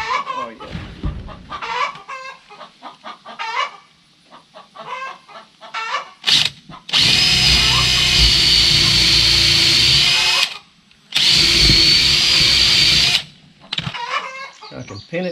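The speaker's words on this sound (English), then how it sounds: "Now I just need to drill a hole." A loud power drill whirs steadily in two long bursts, with a person talking briefly before and between them.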